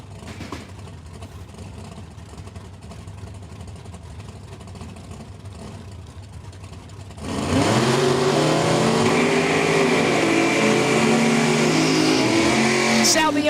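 Drag racing cars, including a 67 Firebird, rev their engines in the water box at a Spring 150 main event. Quiet ambient noise gives way to a sudden, very loud, sustained engine roar with rising and falling revs close by.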